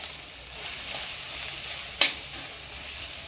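Thecha, a crushed chilli paste, sautéing in a pan with ajwain and poppy seeds for matar karanji filling: a steady broadband sizzle with one sharp spatula scrape or clink near the middle, no voices.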